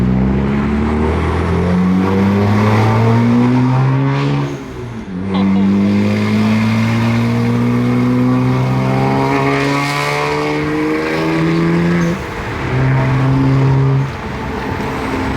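A loud BMW E92 with an aftermarket VRSF exhaust revs up repeatedly through rising pitches, throaty, close up, with short dips between pulls.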